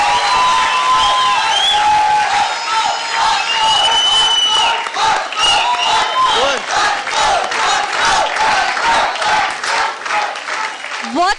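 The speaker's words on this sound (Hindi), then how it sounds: "जोरदार तालियां हो जाए" A television studio audience applauds and cheers loudly after a couple's dance performance on an Indian dance competition show, with sustained clapping, whoops and shouts throughout and a host's voice breaking in over the crowd.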